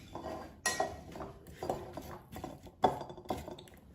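Potato wedges tossed with oil, salt and pepper in a bowl give a few close, uneven clattering scrapes and clinks against the bowl over a few seconds.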